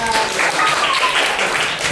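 Elementary schoolchildren in a fifth-grade class clap hands together, a loud, dense patter of many small hands that carries evenly from start to finish, with a voice faintly under it.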